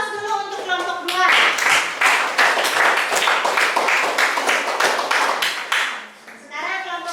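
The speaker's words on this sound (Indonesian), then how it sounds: "Kita beri aplaus dulu untuk kelompok 2." Classroom applause for a student group, a burst of many hands clapping rapidly for several seconds, loud and close, with talk before and after it.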